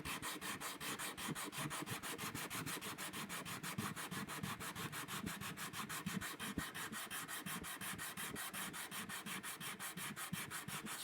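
Steady hand sanding of wood purfling on an archtop guitar, a continuous rhythmic rubbing with quick regular back-and-forth strokes, close and fairly quiet, with no voices.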